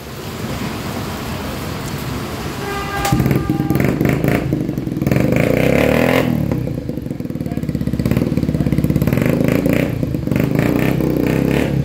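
A restored Yamaha RX100 motorcycle engine cranks and catches, then idles with a loud, steady throbbing rumble that swells briefly as it's revved.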